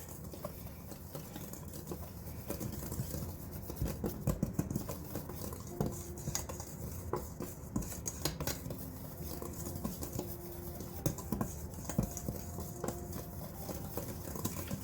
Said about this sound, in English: I'm going to go ahead and just whisk this together.